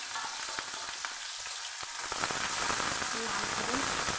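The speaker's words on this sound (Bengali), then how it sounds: "লাল করে ভেজে নেব।" Garlic, onion and dried red chilli fry in hot oil for a Bengali village-style shushni greens dish, a close, continuous sizzle that swells and grows denser after the first couple of seconds.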